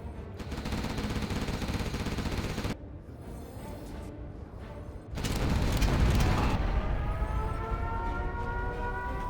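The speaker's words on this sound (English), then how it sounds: "I'm getting better at triangulating where the nukes are hitting for sure." Nuke strikes landing during a pro 1v1 strategy game match, dense rumbling blasts and crackling gunfire-like bursts that swell louder partway through, with a rising whine near the end.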